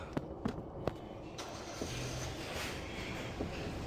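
Van engine in the Evil Nun horror video game: a few sharp clicks, then the engine starts and settles into a steady, moderately loud rumble that continues to the end.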